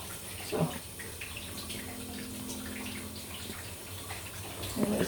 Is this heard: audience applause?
no